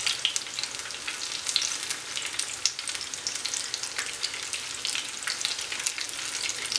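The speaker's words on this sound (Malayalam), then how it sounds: "ഇതും പുറം കരിഞ്ഞു പോകാതെ അകം വേകുന്ന രീതിയിൽ ഫ്രൈ ചെയ്തെടുക്കുക." Batter-coated banana fritters deep-fry in hot oil with a dense, bubbling crackle that stays loud and close throughout, full of rapid pops and no voices.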